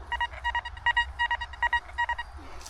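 A metal detector emits a series of short, rhythmic electronic beeps in quick bursts, fairly clear over a low background hum.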